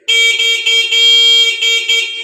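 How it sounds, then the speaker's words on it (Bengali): A loud, steady electronic horn from a Rydo Bolt electric scooter blares in several pulses of a bright, buzzy tone, close by and with no one speaking. "আমি একটু হর্নটা আপনাদেরকে বাজিয়ে দেখাই"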